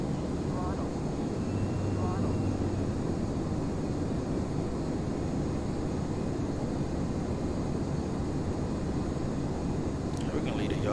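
Jet engines on an Embraer E175 in a flight simulator spool up to a steady, loud roar that fills the whole stretch with an even broadband rumble and no talk over it.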